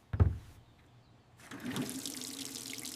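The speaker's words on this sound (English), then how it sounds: "Let's wash our hands." Tap water running as hands are washed, with a brief knock at the start and then a steady, close splashing trickle that starts partway through and keeps flowing.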